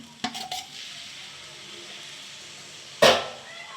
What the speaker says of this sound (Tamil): சிக்கனையும் போட்டு கிளப்போம் நாங்கள் கொஞ்சம் சூடாகட்டும்